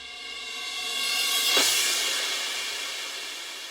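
A reverse cymbal swell rises steadily to a bright peak, then fades out, set over a sustained tonal backdrop.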